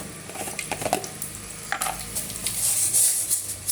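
Mustard seeds and chillies frying in hot oil in a home kitchen as part of a vegetable and fish curry tempering, a steady close sizzle with scattered crackles and pops and a brief utensil clink, no voices.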